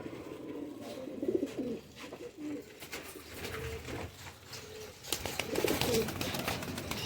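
Banded pigeons in a fancier's loft coo in low, repeated bursts, with rustling and scattered background noise around them.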